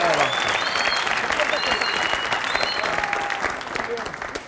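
Studio audience on an Egyptian TV talk show cheering and applauding loudly and steadily, dense clapping mixed with shouts and whistles throughout, with voices mixed in.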